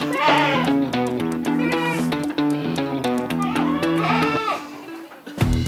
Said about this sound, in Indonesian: Kalau yang dipelihara di sini ada kambing sanen dan etawa.